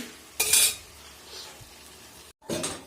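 Chicken pieces fry in a pan, with two short, loud bursts of sizzling and utensil scraping set against a quieter background hiss.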